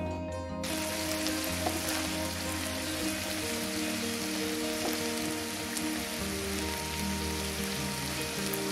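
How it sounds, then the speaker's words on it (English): Ground beef sautés with pepper and onion in a pan, a dense, even crackling sizzle that holds steady and close from start to finish. "I'm just going to start off by sautéing the ground beef with some pepper and some onion"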